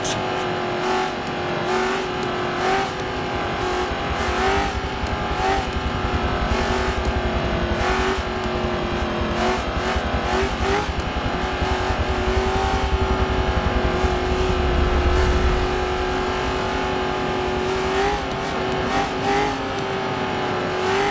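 Racing video game car engine drones steadily throughout, with rising and falling revs as the car accelerates and shifts, loud and continuous with no talking.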